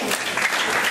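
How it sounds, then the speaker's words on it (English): Audience applause for performers at an event in Ghana, a short burst of dense clapping that fills the whole moment at a steady, fairly loud level. "Give a clap of applause for us."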